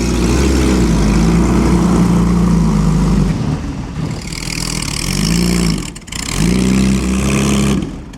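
A Jaguar car engine revs loudly and close at a classic car concours on Lake Como, rising and falling with a brief dip before climbing again, with no talk over it.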